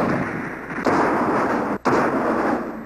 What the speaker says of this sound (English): The next day, the bluff was bombarded with cannon fire.